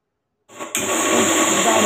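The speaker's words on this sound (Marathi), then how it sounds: "मिक्सर कमी जास्त करून आपल्याला यामध्ये पाण्याचे प्रमाण टाकून आपल्याला हे पेस्ट बनवायची आहे खोबऱ्याची" A kitchen mixer starts up after a moment of silence and grinds wet coconut with water into paste, a loud steady whirring drone that holds to the end.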